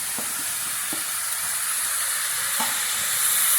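Tomatoes frying in a pan for chutney, a loud close sizzle and hiss throughout with a few soft stirring knocks, no talking.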